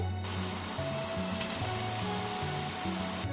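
Steady sizzling of vegetables and frozen peas frying in a hot pan, a constant crackle and hiss close up, with faint background hum.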